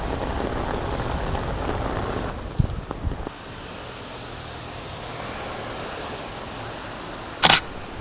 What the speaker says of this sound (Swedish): Skönt att skydda sig från regnet alltså.